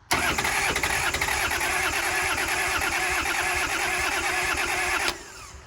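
A long-idle Kubota L285 tractor engine, unused for over eight years, cranks and catches. It makes a loud, steady, rough mechanical roar close up for about five seconds, then cuts off abruptly with no talking.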